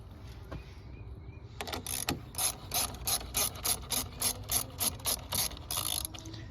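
Ratchet loosening a bolt on a 2005 Acura RSX Type S, about a dozen rapid clicking strokes in a steady back-and-forth rhythm, close and crisp after a quiet start.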